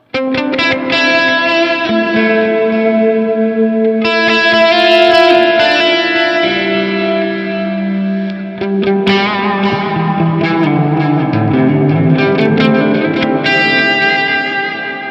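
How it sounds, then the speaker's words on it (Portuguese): Electric guitar through a reverb effect plays a long, flowing melodic passage of sustained notes and bends that ring out and trail off, loud and continuous, with no voices. "Ou com reverb, por exemplo."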